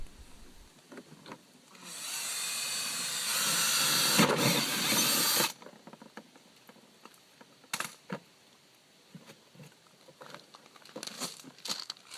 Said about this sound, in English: I started by drilling a hole in the bottom of a tub